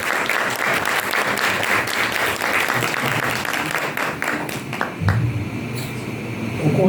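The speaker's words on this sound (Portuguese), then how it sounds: "Uma salva de palmas." An audience at a closing conference lecture applauds steadily, dense hand clapping filling the room at a fairly loud level, with a brief louder rustle near the end.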